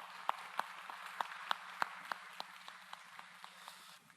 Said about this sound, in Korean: 우리 함께 환영의 박수 보내드리겠습니다